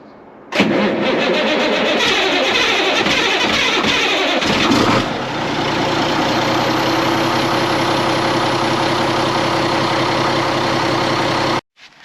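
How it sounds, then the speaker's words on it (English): A Volvo F7 truck diesel cranks over on a cold start in below-freezing weather, catches with a loud rough roar, then settles into a steady, close, rumbling idle that runs on until it cuts off abruptly near the end. "give it a nice little cold start because it is below freezing"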